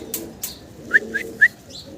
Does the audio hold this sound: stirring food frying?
no